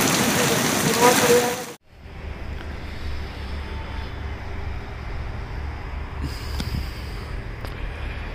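Heavy rain with hail falls on a motorbike trip near Delhi toward the Punjab border, a dense, steady hiss following a louder opening burst.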